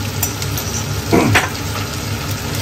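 Spiced chicken curry seasoned with cumin and coriander powder sizzles and fries in a pot, with a brief scrape of stirring and a light clink of utensil against metal midway through.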